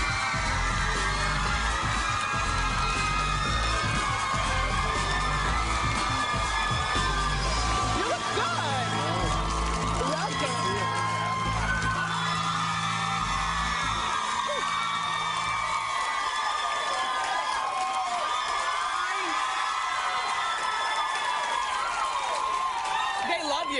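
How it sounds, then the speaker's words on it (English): A talk-show studio audience of girls screams and cheers for Nick Jonas on The Wendy Williams Show, a dense, loud, continuous wall of shrieks and whoops with some low rumble early on. "I guess you never get tired of screaming girls."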